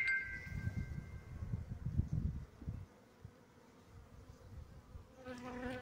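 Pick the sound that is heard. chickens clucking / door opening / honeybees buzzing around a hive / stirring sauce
honeybees buzzing around a hive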